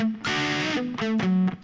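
Distorted electric guitar plays a short solo phrase, a few sustained, overdriven picked notes shifting pitch in quick succession, loud and close with no talking.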